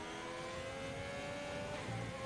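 An F1 2020 video game race car pulls away after crashing out during a Mexican GP league race, its engine a steady, continuous drone with no talking over it.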